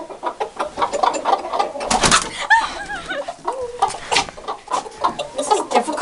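Chickens cluck and squawk inside a coop, a dense overlapping chorus of clucks with a burst of louder calls near the middle, close and steady throughout.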